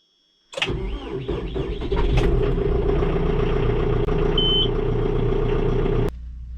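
A skid steer's diesel engine cranks in the cold, catches after a few labored turns, then settles into a loud, steady rattling idle before a sudden drop in level near the end.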